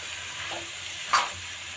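A spoon stirs salt into white chole aloo with white peas frying in a pan, giving a faint, soft sizzle with a brief scrape near the end, heard alone.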